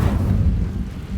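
An Incendio fire spell cast in Hogwarts Legacy, a short, low, rumbling whoosh of flame that holds steady and loud for about a second with no talking.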